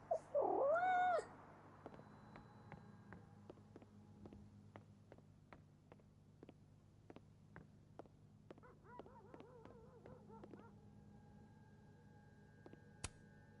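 A cat meows in the video game Life Is Strange Double Exposure: one loud, clear meow at the start, then quieter repeated meows later, over a steady run of soft ticking clicks.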